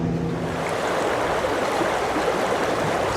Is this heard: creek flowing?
yes